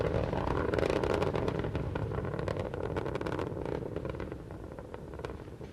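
Space Shuttle Endeavour's main engines roaring at launch from Kennedy Space Center, heard from a distance as a dense, continuous rumbling roar with crackling texture, steady and gradually easing.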